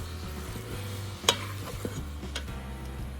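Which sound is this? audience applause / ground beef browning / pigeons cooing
ground beef browning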